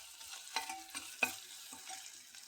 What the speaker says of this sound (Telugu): ఫ్రై చేసుకొని నీళ్ళు పోసి వదిలేసేయాలి, కలుపుకుంటూ ఉండాలి